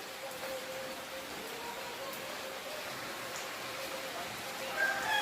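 Steady heavy rain falling in the early morning after a windy night, a continuous close hiss of drops on surfaces that runs unbroken throughout, with no voices.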